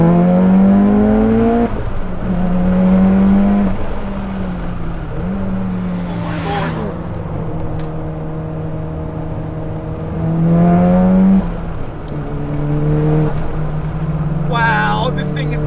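A tuned 600 hp Mitsubishi Evo X with a built 2.2-litre stroker engine revs hard and accelerates, climbing in pitch through the gears with loud, close roaring and brief drops between shifts.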